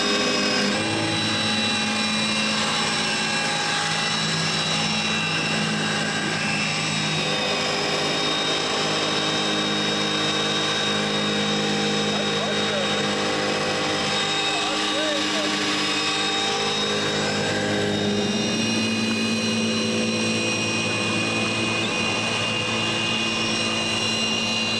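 A small boat driven by a Milwaukee M18 Super Hawg drill runs at full speed on the water, giving a loud, sustained high motor whine with steady tones that shift slightly over time.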